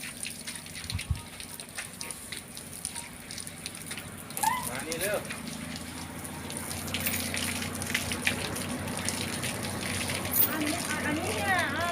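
Water gushes and splashes while a small child is bathed, a steady running stream with sloshing bursts, and someone speaks over it at times.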